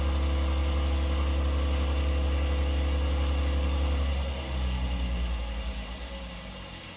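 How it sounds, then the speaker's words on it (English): A Harvey Woodworking T40 wood lathe runs with a steady low motor hum, a continuous drone that begins winding down after about four seconds as the machine slows. "My lathe here, if anyone's interested, this is made by Harvey Woodworking. It is called their T40 lathe."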